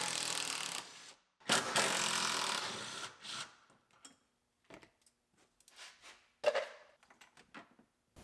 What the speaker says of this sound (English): Let's pull our two bolts out.